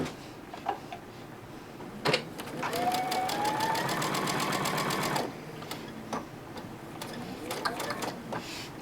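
A sewing machine stitches a quarter-inch quilt block seam with a presser foot, a fast, even mechanical whir running for about three seconds near and clear, framed by quieter handling clicks before and after.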